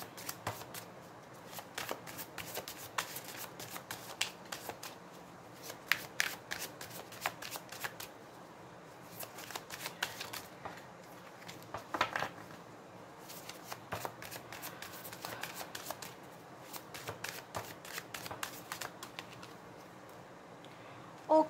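Tarot cards are shuffled by hand in a steady run of soft riffling bursts, close and fairly quiet, repeating with brief pauses through the whole stretch and no talk.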